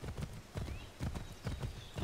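Horse hooves clip-clop steadily while riding in Assassin's Creed III, a brisk rhythmic run of paired hoofbeats close by and fairly quiet, with no talk over them.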